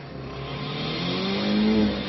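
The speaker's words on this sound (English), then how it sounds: "Listen to the rev of the engine and the smoke coming off of it." A manual-transmission car engine revs hard while a novice driver struggles with the stick shift, the engine note climbing in pitch and swelling louder toward the end.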